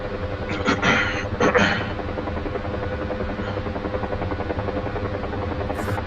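Bell UH-1 Huey helicopter flying near a runway, a steady rotor thump and engine buzz close by, with a short louder burst early on.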